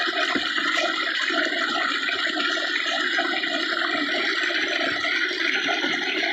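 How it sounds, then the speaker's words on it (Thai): Water gushes from a large irrigation pipe being buried in a rice paddy. It makes a loud, steady, continuous rush with no break and no voices. "เป็นท่อน้ำไหลต่างกันเลยเด้อมันท่อน้อยกับท่อใหญ่แต่ท่อน้อยไหลคอยไปเลย"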